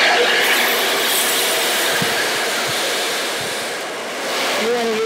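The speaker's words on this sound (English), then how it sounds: "after I blow dry it, I kind of go back through and I lock it in with the cool setting" Sedu hair dryer blowing steadily and loudly throughout, a broad continuous airflow roar with a slight dip near the end and a few faint clinks.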